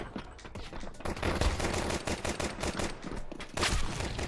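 Rapid gunfire from Counter-Strike 2 gameplay: dense, continuous automatic bursts of loud shots with brief gaps, close and dominant, with no talk over them.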